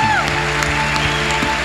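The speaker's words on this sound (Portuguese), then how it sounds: "Vamos dar um aplauso ao Senhor." Church congregation applauding during a worship service, a sustained wash of clapping with crowd noise, overlapping music or sustained tones and a few voices.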